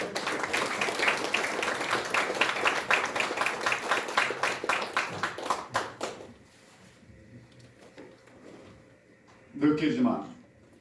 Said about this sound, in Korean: 박수로서 맞으시기 바랍니다